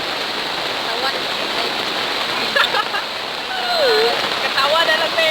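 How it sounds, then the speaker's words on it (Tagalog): Heavy rain pouring outdoors in a rural province, a loud continuous wash of water that swells toward the end, with voices talking and calling over it. "Kusog ka ng uwan."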